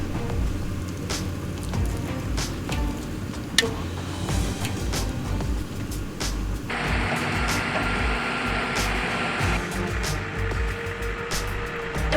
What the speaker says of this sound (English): you can see it stretching as the winch really starts to work